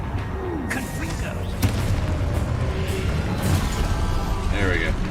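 A Confringo fire-spell explosion in the Hogwarts Legacy video game, a loud booming burst amid continuous spell-casting whooshes, crackles and combat effects, with a game voice briefly present.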